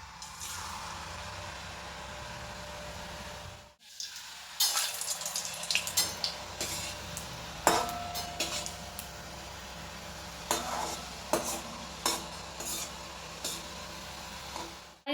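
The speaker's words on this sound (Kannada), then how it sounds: "ಇವಾಗ ಒಂದೊಂದು ಬ್ಯಾಚನ್ನ ಬಿಡ್ತಾ ಇದ್ದೀನಿ ಎಣ್ಣೆಲಿ." Kodubale dough rings are fried in batches in hot oil, giving a steady bubbling hiss. After a brief gap, scattered clinks and clatters of a utensil sound close by over the frying, with no voices.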